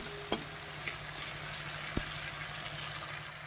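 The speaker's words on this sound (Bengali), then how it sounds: "একসঙ্গে আলুটাও ভাজা হয়ে যাবে" Steady low frying sizzle of potatoes and whole spices in a pan, fairly quiet and continuous, with a couple of brief utensil clicks near the start.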